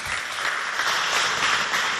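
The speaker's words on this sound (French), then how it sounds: "Est-ce qu'on peut les applaudir?" Audience applause at a school quiz competition between Lycée de Habena and Complexe Oumar Khayar Defallah; a short, dense wash of clapping, fairly loud and continuous for about two seconds.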